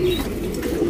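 Tournament racing pigeon at a Bangalore loft giving a short, low throaty coo, close and fairly steady, with no talking.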